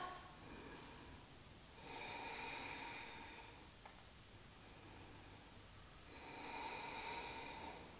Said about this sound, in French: 5 longues respirations.